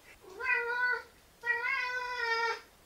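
A cat gives two drawn-out meows, each about a second long with a short pause between, close and clear against a quiet background.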